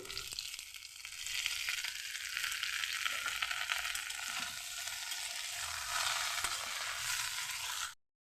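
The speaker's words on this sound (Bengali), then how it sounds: "এখন ভালো করে ভেজে নেব। এটা আলাদা করে ভাজতে হবে না, একসাথে ফোড়নের মধ্যে দিয়ে তোমরা ভেজে নেবে।" Cauliflower and potato pieces fry in hot oil with whole tempering spices, giving a dense, even sizzle with faint stirring that runs unbroken for about eight seconds before cutting off.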